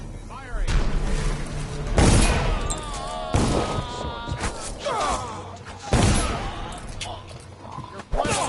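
Gunfire in the video game Dishonored, Knife of Dunwall DLC, a few heavy booming shots spaced a couple of seconds apart, mixed with shouting voices and combat noise.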